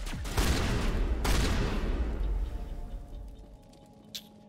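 A shotgun blast in the sci-fi shooter Mass Effect Legendary Edition, with two loud booming discharges close together near the start, each trailing into a long decaying rumble, followed by a faint click near the end.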